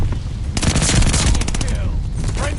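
Pistol fire in the video game Vanguard sounds as a rapid burst of close, loud shots, with faint speech in the background.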